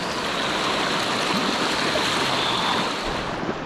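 Rushing river water roars steadily and loudly throughout, a continuous broadband torrent close by during a river crossing on a gold prospecting trip, with no voices over it.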